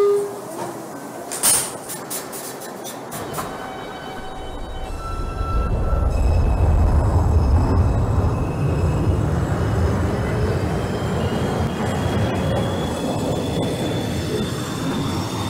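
New York subway 2 train, Manhattan-bound, in the OpenBVE train simulator, starting with a few clicks and hiss, then a low rumbling roar of wheels on track that builds and holds steady with faint squeals, continuous and fairly loud.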